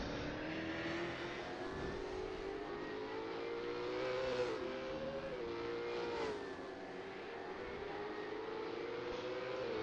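Race cars lapping a circuit in a Supercars racing game at Adelaide, a steady high engine whine that rises and falls as cars pass, loud and continuous with no voices.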